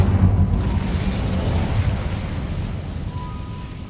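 Incendio fire spell cast in Hogwarts Legacy, a loud fiery burst with a deep rumbling whoosh at the start that settles into a sustained roaring crackle for several seconds, with no talk over it.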